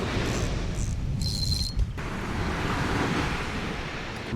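Big ocean waves break and wash up a beach during raw beach camping, a loud continuous roar of surf with gusts of wind buffeting the microphone.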